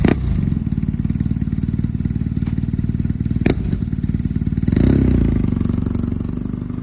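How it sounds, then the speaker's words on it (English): Steady, loud BMW R 12nineT motorcycle exhaust rumbling at idle with a deep even pulse, a brief blip of revving midway, close to the microphone. "Exhaust sound of BMW R 12nineT."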